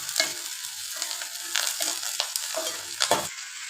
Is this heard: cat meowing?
no